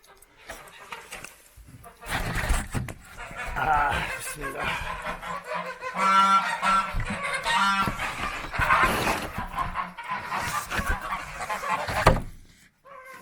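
Geese honk and cackle repeatedly at close range in snow, bursts of loud calls coming and going over several seconds.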